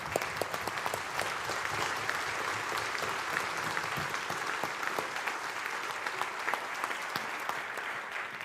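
Sustained, dense applause fills an assembly hall for the whole stretch, steady and enthusiastic with no pauses, from a large seated gathering.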